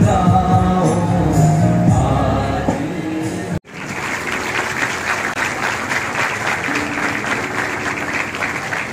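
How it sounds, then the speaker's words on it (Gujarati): A crowd bursts into sustained, dense applause at the opening of Himalaya Cancer Hospital in Junagadh. It follows a few seconds of tonal sound and a sudden brief cut. "તાળીઓના જોરદાર ગડગડાટથી મિત્રો વધાવી લઈશું"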